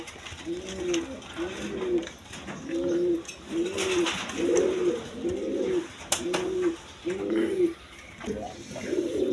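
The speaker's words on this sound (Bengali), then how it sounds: "এখানে কালারিং রাজগোল্লা কবুতর আছে" Rajgolla pigeons coo close by in a steady series of about nine rhythmic low phrases, each lasting under a second and separated by short gaps, with occasional sharp clicks and rustles between them.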